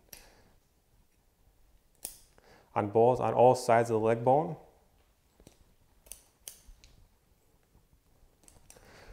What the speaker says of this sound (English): we'll take our scissors and cut right through all the tendons and meat